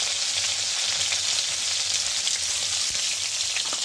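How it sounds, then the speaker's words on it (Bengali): Cauliflower sizzles steadily in hot oil in a pan, a dense close crackle with a brief scrape and tap as the pieces are turned over. "উল্টে পাল্টে নিচ্ছি আমি মাঝে মাঝে"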